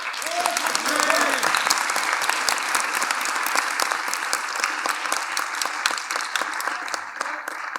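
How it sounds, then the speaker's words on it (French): Sustained applause from an audience, steady dense clapping throughout with a brief voice rising over it near the start. "Applaudissez bien fort, François."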